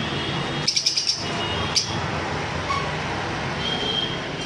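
Small cage birds such as white lovebirds, Java sparrows and cockatiels at a bird sale give a short burst of quick high chirps, then a lone chirp, over a steady background hiss.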